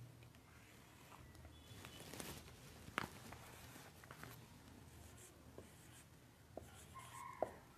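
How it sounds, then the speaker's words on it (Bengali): A teacher writing numbers on a board during a fourth-grade maths class, quiet scratchy strokes and taps in short bursts with a few sharper knocks, faint against a soft room background. "এখানে আমি কয়েকটি সংখ্যা লিখব এখন।"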